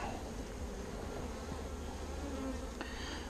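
Honeybees hum in a dense, steady buzz close by during a hive inspection in Texas, a continuous drone with no voices over it.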